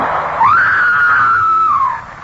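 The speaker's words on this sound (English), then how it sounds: "The scream came from the house." A single sustained scream from an old-time radio drama, loud and close, rising sharply, holding for over a second, then trailing off, with no talk.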